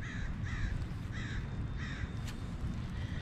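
Several crows caw in a loose rhythm of short repeated calls, moderately distant in a yard, over a steady low rumble of outdoor background noise.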